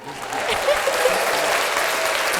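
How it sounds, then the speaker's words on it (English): An audience at a House of Blues show breaks into clapping, a dense burst of many hands that swells and holds steady, with a few faint voices mixed in. "let's do the little clap for him"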